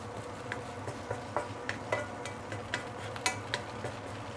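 Glass noodles (tanghoon) being stir-fried in a pan, with light spatula scrapes and soft clinks in an irregular rhythm over a faint, low sizzle. The sound is fairly quiet and close, with no talking.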